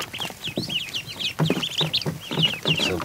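Crossbreed ducks, some with black heads, calling in a farmyard with loud, repeated nasal quacks and clucking cries in overlapping bursts throughout, close by with no talk.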